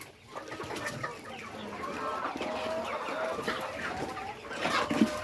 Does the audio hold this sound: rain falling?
no